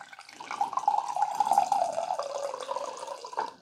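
Water pours from the spout of a ZeroWater ZP-010 filter pitcher in a thin steady stream, close and clear, running for about three seconds with a gurgling, slightly shifting tone before tapering off.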